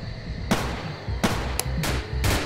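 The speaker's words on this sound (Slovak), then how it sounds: "Shots fired" Gunfire in the Emergency Hamburg police roleplay game, a mafia shooting outside a club on the street: four sharp, close shots spaced irregularly over a couple of seconds, with no talking.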